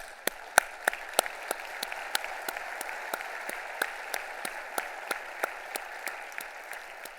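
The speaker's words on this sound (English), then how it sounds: "Let's give yourself a round of applause." At a foundation's charity gathering, donors applaud with sparse, evenly spaced claps in a steady rhythm over a faint background of room noise.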